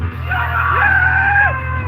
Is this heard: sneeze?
no